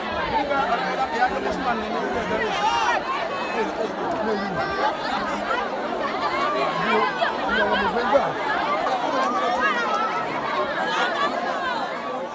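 A massive festival crowd walks down a hill after the Orosun Festival, a dense, continuous murmur of many voices chattering with occasional laughs, close around and steady throughout.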